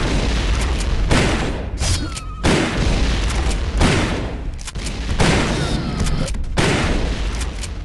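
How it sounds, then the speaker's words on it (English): Loud, rapid bursts of heavy weapon fire from the Firestorm Cannon in Turok 2 blast continuously, booming and crackling in a dense barrage with brief gaps between volleys. "Firestorm cannon."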